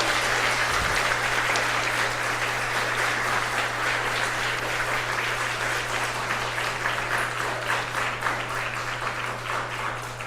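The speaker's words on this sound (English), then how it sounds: "Let's give another round of applause to Rebecca." An audience applauds at the end of a talk on cosmic explosions and their debris, a steady and dense round of clapping that lasts the full ten seconds over a low constant hum.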